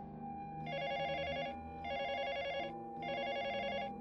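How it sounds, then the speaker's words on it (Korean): A hotel room phone rings three times with a call from the front desk, in regular electronic trills, moderately loud, over a low background tone. "이 시간에 왜 카운터에서 전화가 오지?"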